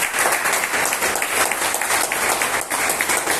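Church congregation applauding, a continuous wash of many hands clapping throughout, loud and steady, filling the room without a break.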